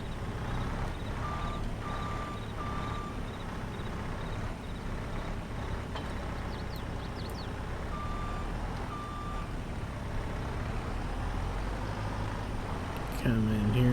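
A skid steer arrives on a Westby, Wisconsin farm to take on pallet forks, its reversing alarm giving two separate bursts of steady beeps over a continuous low engine rumble.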